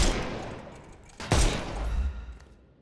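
Gunfire in a Sherlock Holmes game: a single sharp, loud shot cracks out midway over a murky background, followed by a low rumbling tail that fades away.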